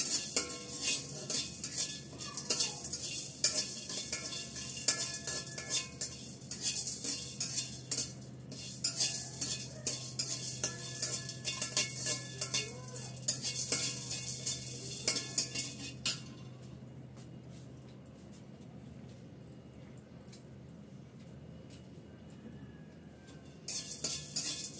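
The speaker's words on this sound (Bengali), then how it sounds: "কড়াইতে একটু ভেজে নিচ্ছি আমি" Whole spices (bay leaves, cardamom, cinnamon, cloves, peppercorns) dry-roast in a kadai, stirred with a utensil that scrapes and clinks in repeated close bursts, softer toward the end.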